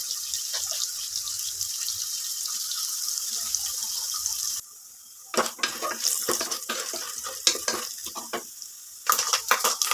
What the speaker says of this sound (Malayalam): എണ്ണ ചൂടായി നമുക്ക് തേങ്ങക്കൊത്തിടാം